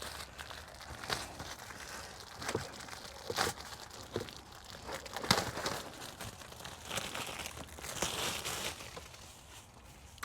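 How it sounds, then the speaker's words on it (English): Plastic packaging crinkling and crackling close up as a Rivian cabin air filter with a foam seal is unwrapped, irregular crisp rustles and sharp crunches over about ten seconds. "Let me open this one up, take it out of the plastic"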